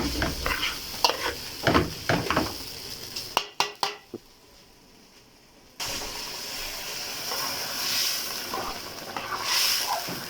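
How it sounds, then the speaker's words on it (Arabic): Rice is stirred into fried vermicelli in a pan, with a spoon scraping and clinking against the metal over steady sizzling; the noise drops out briefly midway, then frying and stirring resume loudly and close. "واديني بقلب الرز اهو في الشعريه اهو"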